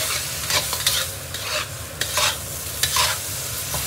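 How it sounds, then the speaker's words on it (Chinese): Luffa stir-fried with a little water over high heat gives off a loud, constant sizzle, punctuated by repeated scraping strokes of a spatula against the wok. "搁水一块炒，火一定要大一点啊，一直给它炒软"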